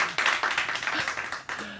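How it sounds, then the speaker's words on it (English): A live studio audience at a live show gives a short burst of applause, dense and fairly quiet, with a faint voice underneath. "Let's give them a round of applause"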